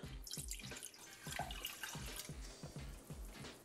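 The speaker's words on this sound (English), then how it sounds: "So in your pan, add your balsamic." Balsamic vinegar pours into a cooking pan with a faint, soft liquid splashing that comes in quick rhythmic gulps.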